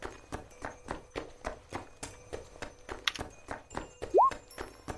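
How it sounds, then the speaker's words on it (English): Footsteps from a tabletop roleplaying scene approach in a steady, regular rhythm, growing louder and clip-clopping like hooves, with a brief rising whistle-like squeal near the end. "You can only hear the footsteps as they approach. They get quite loud"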